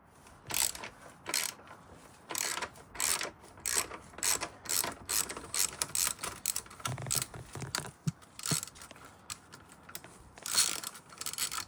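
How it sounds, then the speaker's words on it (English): A ratchet undoes an exhaust bolt on a BMW S1000XR motorcycle. Rapid, close clicking comes in repeated bursts with short pauses between strokes, fairly loud and steady throughout, with no talking. "We will need to undo this bolt right here and this one right here"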